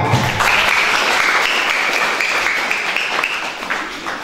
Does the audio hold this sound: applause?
yes